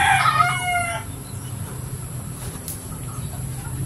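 Egg-laying hens kept as backyard poultry, with a short, close burst of clucking at the start that gives way to a quiet outdoor background.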